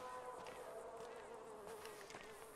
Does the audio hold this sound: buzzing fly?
yes